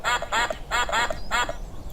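A cartoon voice imitates a duck, quacking five times in short, evenly paced bursts, clear and close with quiet gaps between each quack.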